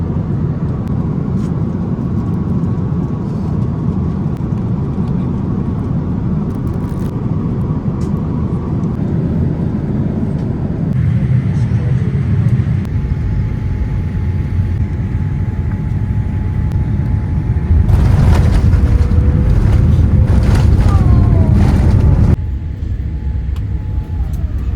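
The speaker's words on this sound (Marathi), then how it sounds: "आताच आपलं प्लेन लँड झालेलं आहे." A British Airways airliner lands at Mumbai, heard from inside the cabin: a steady engine and rolling roar shifts in stages, swelling louder for several seconds near the end as the plane slows, then settles back down.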